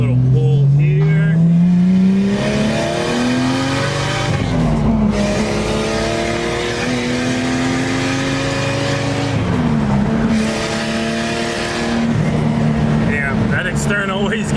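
Nissan R34 with an external wastegate accelerating hard, a loud in-car engine pull climbing steadily in pitch through successive gear changes, with short dips between shifts and someone talking over the drone.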